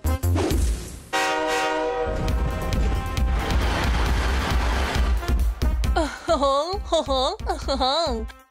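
A train in a Telugu children's cartoon gives a long, loud horn blast, then rumbles steadily along the rails while cartoon voices chatter over the noise.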